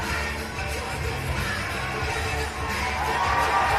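Spectators at an ice climbing World Cup lead final in Saas Fee cheering and shouting for a Swiss climber, a broad continuous crowd roar with whoops rising toward the end.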